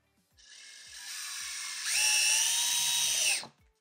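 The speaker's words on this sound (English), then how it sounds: "let's just go straight to the power drill" A handheld power drill whirs steadily for about three seconds, its motor pitch rising partway through before cutting off, with faint clicks and knocks at the start and end.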